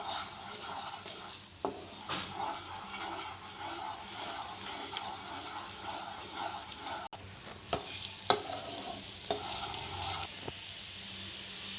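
A thin sugar syrup bubbles and simmers in a pan while being stirred, a steady soft sizzling hiss broken by occasional scraping clinks of the spoon, with no talking.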